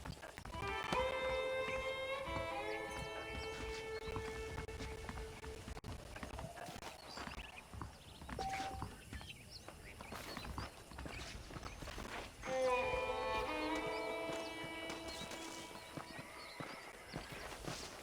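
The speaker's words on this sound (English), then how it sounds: "The horses are saddled up over here." Horse hooves clip-clop at a steady walking pace in the video game Red Dead Redemption, beneath a light melodic music score that swells at the start and again near the end.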